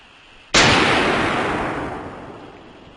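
One loud, close AK rifle shot in 7.62x39 fired at a 3/8 inch soft steel plate, a sharp blast whose roar and echo trail off slowly over two seconds.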